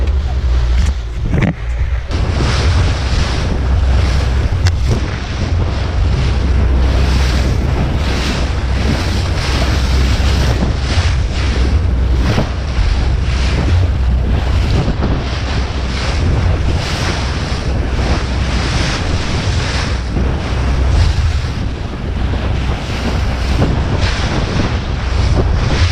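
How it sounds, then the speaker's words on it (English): Small fishing boat crawls into waves on Lake Michigan off St. Joseph on a salmon trip, with a steady low engine rumble, slapping surf and heavy wind buffeting the microphone throughout, loud and continuous. "We're going 1 mile an hour into the waves."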